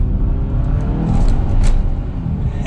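A 2021 Kia Sorento SX SUV downshifts to second gear, its engine rising into a loud, steady rumble heard from inside the cabin over a short stretch.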